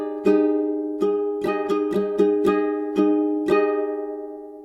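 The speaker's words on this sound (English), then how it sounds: "so we added an extra down strum right here, so it sounds like this." Ukulele strummed alone in a repeating pattern with an added down strum, about eight bright chord strokes ringing together over roughly five seconds, close and clear.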